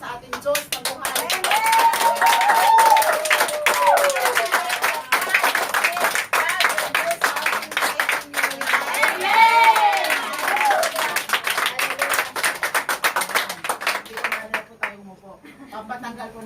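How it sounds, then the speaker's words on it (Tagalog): A church congregation claps and applauds loudly and steadily for a long stretch, with voices calling out and cheering over the dense clapping before it fades slightly at the end. "ibigay nyo yung pinakamalakas, pinakamagandang palakpak sa ating Diyos na buhay"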